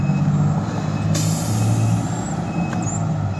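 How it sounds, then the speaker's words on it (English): A fire truck with a Detroit diesel engine backing up: a loud, steady, close engine rumble, cut by a sharp burst of air-brake hiss partway through and a softer hiss later. "Listen to that Detroit diesel."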